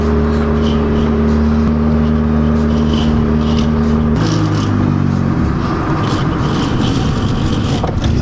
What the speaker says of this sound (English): I think it's probably the injectors are dumping too much gas, and that's why it's trying to stall out.